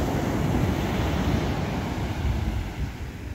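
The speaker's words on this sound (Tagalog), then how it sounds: "Kalmada yung hangin pero malakas ang alon." Strong waves surge continuously against a beach lined with boats, a dense, even roar of surf with wind noise rumbling on the microphone throughout and no voices.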